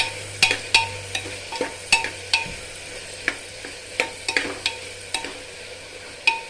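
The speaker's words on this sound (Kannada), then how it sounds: "ಫ್ರೈ ಮಾಡ್ತಾ ಇದ್ದೇನೆ" Chopped vegetables frying in coconut oil for a tender jackfruit biryani, with a low sizzle under a run of sharp, irregular spoon clinks and scrapes against the pan, close and clear, with no voices.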